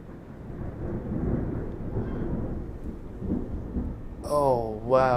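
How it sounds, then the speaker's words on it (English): Low, continuous rumbling of thunder from a thunderstorm rolls steadily for several seconds, with a voice speaking briefly near the end. "Thunder, thunder."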